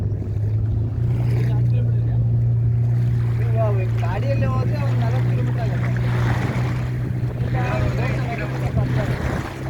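Local motorboat carrying passengers from river to sea near a lighthouse, its engine a loud steady low drone throughout, with water and wind noise and people talking over it.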